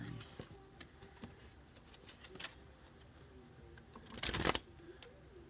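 Tarot cards are shuffled quietly during a card reading, a soft riffling patter near the microphone with a louder burst of shuffling toward the end, no talk over it.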